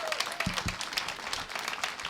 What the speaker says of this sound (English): I think we owe the La Mariposa Resort a big round of applause.